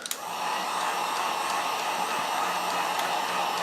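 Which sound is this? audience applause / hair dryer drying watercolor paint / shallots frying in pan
hair dryer drying watercolor paint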